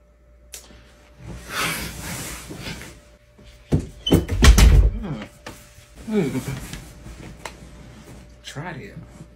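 A classroom door opening and closing, with a sliding, rumbling movement and a heavy thump near the middle, close by, amid people talking before and after.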